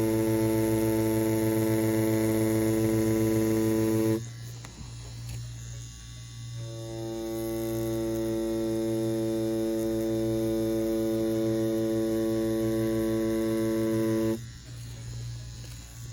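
An Ambition Soldier wireless tattoo machine runs with a steady electric buzz and strong harmonic hum, close and continuous, the pitch shifting briefly twice as the motor load changes.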